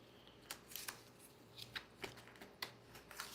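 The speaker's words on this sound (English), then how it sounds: "So I'll take my deck of cards, shuffle it up, and then draw 3 new cards." A deck of playing cards being shuffled by hand during a tabletop card game, giving a series of soft riffling bursts and papery slaps at an irregular pace, quiet and close.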